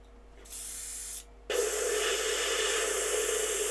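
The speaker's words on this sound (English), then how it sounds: "So I've kept the airbrushing pretty much in real time" An airbrush sprays paint onto a turned wooden sunburst-textured bowl, with a steady close hiss that cuts briefly, then resumes louder and continues unbroken over a plastic tray.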